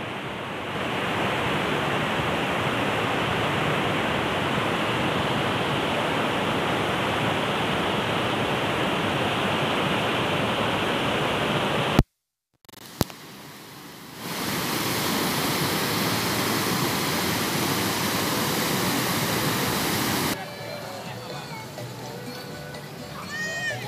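Water flows steadily in a small river at the Benanga dam, a dense continuous rushing wash heard up close and loud, broken by a brief dropout before the flow resumes, with faint chirps in the later stretch.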